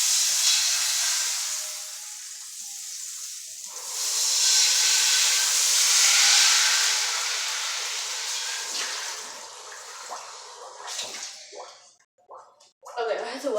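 Browning butter hisses loudly in a hot pan, a strong close steam-like sizzle that rises and falls, then breaks into sputtering pops and crackles toward the end.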